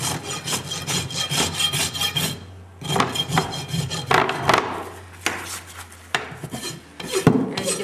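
A steel hoof rasp scrapes repeatedly across a horse's hind hoof during a trim, giving rhythmic, close, loud rasping strokes in bursts with brief pauses and no talking.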